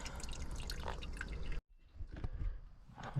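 Water drains out of a Mercruiser I/O boat engine into the bilge as a quiet trickling and dripping, close by with light clatter, briefly cut off midway before the flow resumes.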